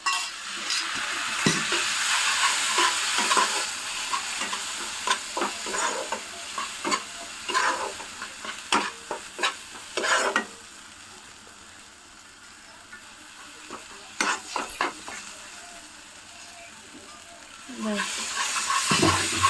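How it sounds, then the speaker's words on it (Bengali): Kashmiri chilli powder, coriander powder and coconut milk stir-fried in a pan for a prawn curry, with loud bursts of sizzling and repeated scraping stirs, a quieter stretch midway, and a voice speaking briefly in places. "দিয়ে নারকেলের দুধটা এর মধ্যে দিয়ে একটু কষাবো।"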